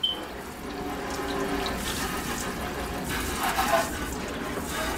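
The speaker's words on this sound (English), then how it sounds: "I'm done washing my hair." Water runs steadily from a tap while washed hair is rinsed, a continuous close splashing rush with no break.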